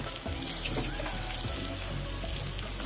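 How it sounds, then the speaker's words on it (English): Water is poured into a hot cooking pan over a low to medium flame, producing a dense, steady hiss and sizzle that fills the whole moment without speech. "now we're going to add a little water"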